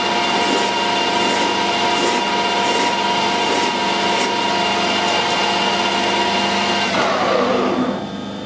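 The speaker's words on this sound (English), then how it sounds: "We'll machine it with a file carefully." A hand file drawn steadily across metal to form a small taper, a continuous dense rasping with repeated strokes at close range, ending in a brief falling scrape.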